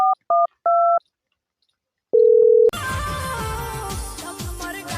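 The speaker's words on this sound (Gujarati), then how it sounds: "હવે તો દશાજીને ફોન કરું" A phone call being placed: three short bursts of dual-tone keypad dialing, a pause, then one longer single tone, after which loud music with a beat and other sounds take over.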